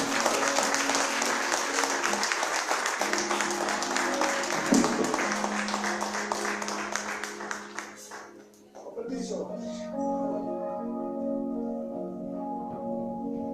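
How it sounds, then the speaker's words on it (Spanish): A church congregation applauds loudly at a worship service, the dense clapping mixed with music and voices, then fading after about nine seconds as sustained instrumental tones carry on alone. "Dale un aplauso fuerte al Señor."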